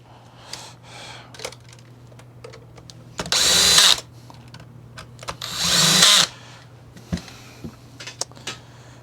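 A power drill drives the back screws into a Kirby vacuum during a switch repair, in two loud whirring bursts of about a second each, surrounded by quiet handling clicks and a low steady hum.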